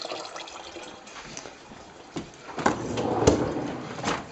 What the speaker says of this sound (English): And just start running the cold water.